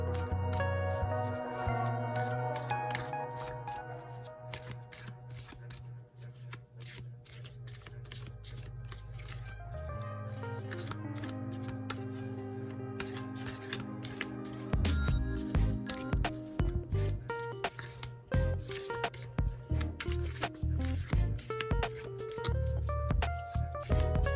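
Large tarot cards riffle and shuffle in a quick flurry of papery clicks and flutters, played under loud background music with steady rhythm throughout.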